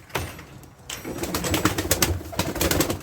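Kayseri pigeons coo and flutter close by in a busy coop, with bursts of wing flapping and scattered calls.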